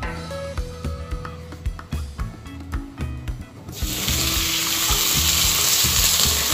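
Carrots fried in oil, a clattering stretch of scraping and knocks as the pieces go in and are moved, then a loud, dense, continuous sizzle takes over for the final seconds, close by.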